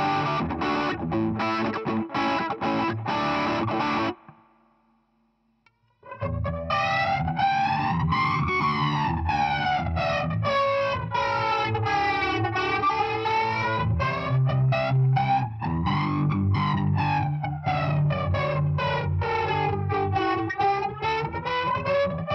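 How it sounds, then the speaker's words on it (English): Heavily distorted electric guitar chords ring out loud, pause briefly into near silence, then resume with sustained, sliding notes and bends. "Now with some distortion"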